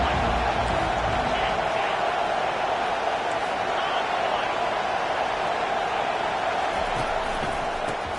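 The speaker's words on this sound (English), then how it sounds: "This crowd bringing an ear-splitting welcome to their visitors." Loud, steady roar of a stadium crowd cheering in an NCAA college football video game, a dense continuous wash of noise holding throughout.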